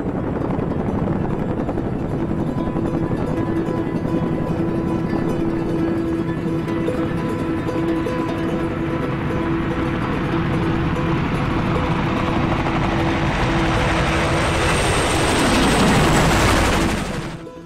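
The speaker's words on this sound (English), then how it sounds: "making the Chinooks a lifeline to troops on the ground" A Chinook military transport helicopter flying supply runs over Helmand Province, with a loud continuous rotor thump and turbine roar that swells and then drops in pitch as it passes near the end.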